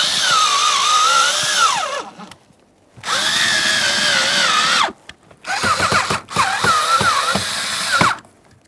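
Power driver tightening fasteners under the dash while fitting an HVAC blower motor on a 2009-2014 Nissan Maxima, several loud whirring runs with rising and falling pitch, separated by brief silences and a few clicks.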